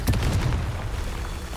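A deep, rumbling blast from the Confringo explosion spell in Hogwarts Legacy hits at once and then fades into a low, rolling decay.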